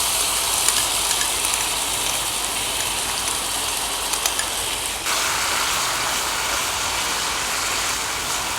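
Chili, ginger and garlic paste with a little onion sizzles in a pan, a steady close hiss that carries on throughout and steps up slightly partway through.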